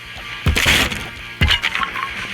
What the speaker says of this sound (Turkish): Tost makinesi sen de kırıl. Sandalye kırıl. Kırıl. Masa kırıl.